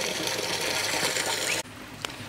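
Water from an aquaponics system pouring out into a fingerling pond, a steady loud gush and splash that cuts off abruptly partway, leaving a quieter trickle with a single small splash.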